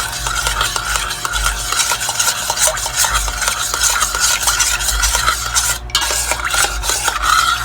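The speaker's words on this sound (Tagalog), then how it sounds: "Mix lang muna natin yung gelatin guys." A spoon scrapes and clinks rhythmically in a bowl while stirring gelatin with fruit cocktail syrup, close and fairly loud, with a steady low background hum and no talking.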